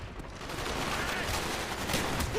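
Sustained gunfire in the Call of Duty: Black Ops campaign mission "Operation 40", a dense, steady wash of shots and battle noise running evenly for the whole stretch with no clear pauses.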